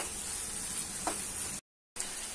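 Chopped tomatoes cook in a pan for poha, giving a steady, close sizzle that hisses evenly with a faint stir partway through, then cuts to silence briefly before resuming.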